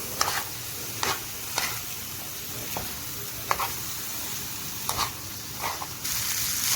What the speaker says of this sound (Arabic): هننزل بالفريك ونقلبهم كويس مع بعض